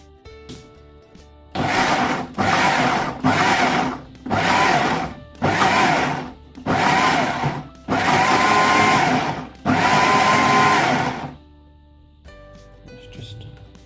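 Blender pulsing tomatoes for passata, lid sealed tight: seven loud whirring bursts of roughly a second each, separated by short pauses, the last two held a little longer, then quiet.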